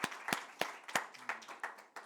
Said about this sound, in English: let's give Avina a round of applause and the group